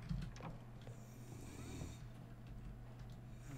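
Snoring drifts from the background of a Resident Evil Village game scene in a quiet save room: faint, low, slow breaths under a steady low hum.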